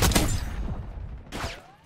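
A few loud gunshots in the shooter Black Ops 6, one burst at the start and another about a second later, each with a short echoing tail over game ambience.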